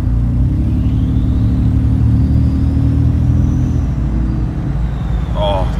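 Ford F-150 pickup engine idling up close, a steady low rumbling purr that holds evenly, with a faint higher whine drifting above it.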